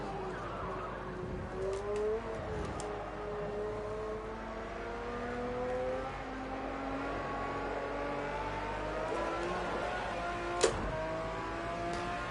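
Race car engine in a racing game at Oschersleben, revs sweeping up and down through gears with double downshifts, smooth rising tones broken by quick blips; steady and near, no talk.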